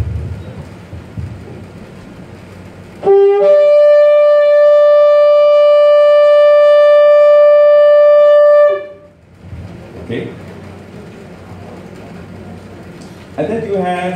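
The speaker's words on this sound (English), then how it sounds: "they will blow something like what they call a tekiyah, which is a long blast" Shofar sounded in a single long tekiah blast, a loud, steady, buzzy horn tone held for about six seconds, with people talking before and after it.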